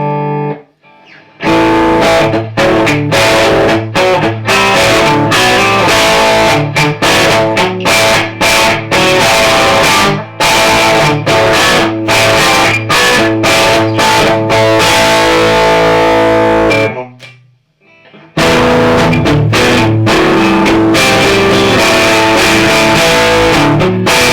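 Electric guitar played through a Jackson Ampworks El Guapo plexi-style tube amp with modern gain, loud overdriven chords and riffs with choppy rhythmic stops, a brief pause near the end before heavy playing resumes.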